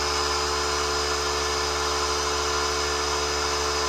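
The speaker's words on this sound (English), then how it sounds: "gonna blow up the tires now because they're all around 20 PSI, just to make sure they hold air" Steady electric air pump running continuously while inflating the roughly 20 PSI tires on a Saab 900 Turbo project car, a constant whirring drone with no pauses.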